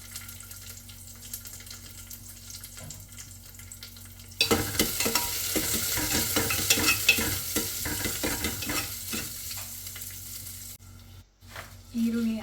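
Onions frying in a pan for Indian tomato bath: a quiet opening, then a loud, steady sizzle breaks out with scraping stir strokes running through it for several seconds before it drops away near the end.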